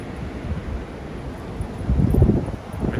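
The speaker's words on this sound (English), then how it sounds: "This wind is crazy." Strong wind gusting over trees in Colorado, a low, rumbling roar with rustling that swells to a louder gust toward the end, close and buffeting, with no talk.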